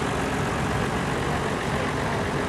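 A big Case tractor, a 1957 Model 600, runs at a farm show tractor parade, its engine giving a steady, loud, low rumble that holds without a break.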